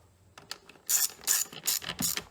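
Quick bursts of a ratchet wrench clicking as 10 mm bolts are tightened on a CFMOTO i45 4500-watt generator during a gas-to-propane conversion, several loud close ratcheting runs separated by short pauses.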